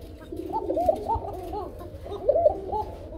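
A male pigeon coos in two soft, rolling bouts, close but quiet against a faint background.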